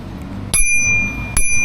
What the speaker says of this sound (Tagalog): And meron din siyang bell.